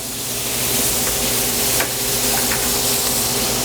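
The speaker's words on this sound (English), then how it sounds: "we're going to take a little bit of butter" Scallops sear in melted butter in a hot pan, giving a loud, continuous sizzle and spatter that holds evenly throughout, close up with no voices.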